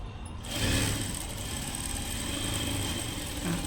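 Electric sewing machine running steadily while stitching a boat neck blouse, a continuous motor hum with a whirring drone that starts abruptly and holds evenly, close and moderately loud, with no talking.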